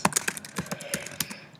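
Close, fairly loud typing on a computer keyboard, a steady run of distinct clacky keystrokes at an uneven rhythm.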